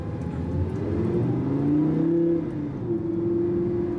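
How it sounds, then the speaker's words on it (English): Lamborghini Gallardo LP560-4 engine revving with its exhaust valves open in sport mode, a loud, close rising and falling mechanical wail that climbs in pitch then settles into a held tone, without talk. "once these valves open and the car becomes a lot more shouty and sporty"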